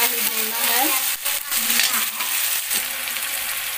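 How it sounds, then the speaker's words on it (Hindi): Tomatoes and chopped vegetables being lightly roasted in a pan for poha, with a steady broadband sizzle throughout and occasional spoon stirring scrapes, close and moderately loud. "थोड़ा सा इसको ऐसे भून देना है, एकदम इसको जैसे गलाना नहीं है टमाटर को"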